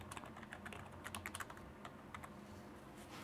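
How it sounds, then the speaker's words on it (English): Quiet, close clatter of a computer keyboard as text is typed into Microsoft Word 2010, with bursts of quick keystrokes over a soft background hiss and no speech. "I'm going to type in the word that I want."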